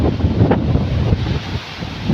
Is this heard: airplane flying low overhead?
no